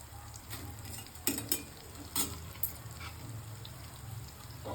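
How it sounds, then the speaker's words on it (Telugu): Quiet sizzling of dried red chillies and curry leaves frying in hot oil, with a few sharp crackles and pops and soft stirring scrapes. "పచ్చిమిర్చి వేగిన తర్వాత ఇందులో ఎండుమిర్చి, కరివేపాకు వేసుకోవాలి."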